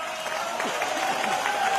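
A crowd claps steadily at a public speech in Nadabet, Gujarat, a dense patter of applause that holds at an even level throughout.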